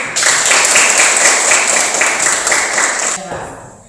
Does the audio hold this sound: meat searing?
no